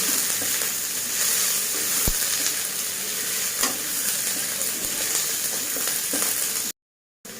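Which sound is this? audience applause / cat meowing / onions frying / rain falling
onions frying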